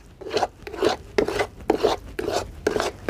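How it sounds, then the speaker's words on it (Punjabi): Besan being stirred into hot sugar syrup in a pan for barfi, a close, rhythmic scraping repeated about six times in steady back-and-forth strokes, with no talking. "ਹੁਣ ਆਪਾਂ ਇਹਨੂੰ ਐਂ ਚੰਗੀ ਤਰ੍ਹਾਂ ਹਿਲਾ ਲਾਂਗੇ ਇਹਦੇ ਵਿੱਚ ਮਿਕਸ ਕਰ ਲਾਂਗੇ"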